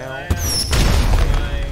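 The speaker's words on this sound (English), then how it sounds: "Now it blew up." A single loud boom bursts from a GTA 5 roleplay game, an exploding vehicle with a sharp blast followed by a rumbling tail and ringing debris.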